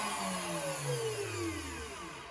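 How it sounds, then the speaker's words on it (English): A router table cutting a notch in walnut for a jewelry box, a loud steady high-pitched motor whine with the pitch sagging slightly as the bit bites into the wood, continuous and close, with no talking. "I've got my router table all set up to notch this out here"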